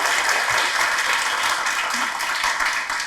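An audience bursts into dense, loud applause for the show Taza Khabar, sustained clapping that tapers slightly at the close.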